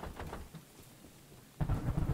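Thunderstorm in the Choo Choo Charles horror video game: a steady wash of rain with faint rumbles, then a louder, close thunder crack and rumble near the end, with no talking.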